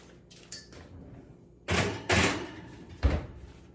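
An oven door closing as a baking pan slides into the oven, with a couple of scrapes and rattles followed by a firm thud, close and short.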